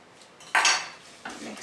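Vanilla being stirred into brownie batter in a mixing bowl, two distinct scraping clinks of a utensil against the bowl, close and clear with quiet pauses between.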